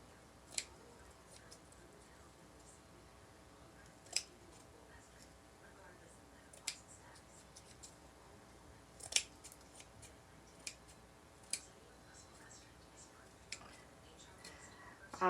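Scissors snip at a red, white and blue spiral wreath, giving sparse, sharp clicks spread out over a quiet background with faint murmuring.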